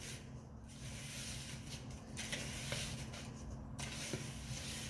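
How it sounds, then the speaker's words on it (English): Chopped mini wheat cereal cubes stirred into dry baking ingredients in a bowl, a soft continuous gritty rubbing and scraping, quiet and close with no talk. "we're going to add that to our dry ingredients and give it a little bit of a mix"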